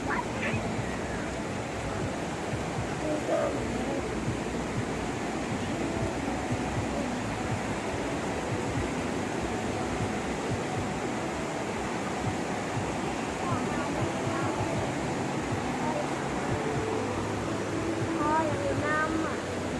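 Huai Chan waterfall in Khun Han, Sisaket, Thailand, pours in a steady, dense roar that fills the whole stretch, with faint voices of visitors and a few bird calls scattered under the rushing water.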